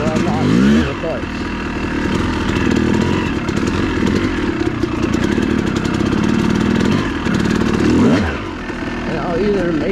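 An enduro motorcycle engine revs and bogs on a trail as the rider works the clutch, a raspy close-up drone with rising and falling pitch sweeps near the start and end, with a voice talking over it.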